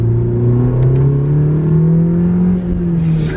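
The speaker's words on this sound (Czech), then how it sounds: "já to sotva polochtám ten plyn a ono to má 4000 otáček." A 370-horsepower car engine revs under light throttle to around 4000 rpm, a loud, close, steady droning roar that climbs gently in pitch and holds without a break.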